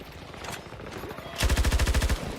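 Automatic gunfire in the shooter game Battlefield 2042, a rapid burst of about a dozen loud, evenly spaced shots following a stretch of quieter game ambience.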